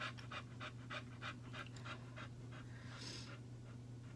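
A dog pants in quick, steady rhythmic bursts close by, with a low constant hum underneath and no voices.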